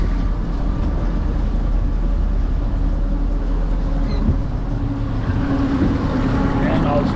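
A boat's main outboard engine drones steadily as it is given a little gas, with wind and water noise around it and a voice heard over the engine.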